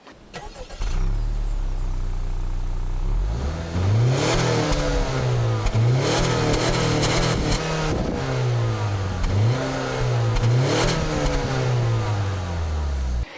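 An Acura RDX with chrome exhaust tips revs repeatedly: loud, close blips that climb and fall in a steady rhythm over a continuous idle, with no talking.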